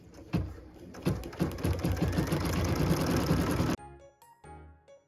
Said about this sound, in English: What we're going to do now is stitch the lace star tack down line.